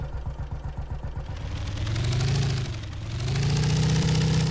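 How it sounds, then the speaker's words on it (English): A vehicle engine in the LVS mod for Garry's Mod cranks with a rapid chugging starter rhythm, catches and settles into a steady, close, droning idle that swells and dips slightly as it revs. "You just press R and it'll start the engine."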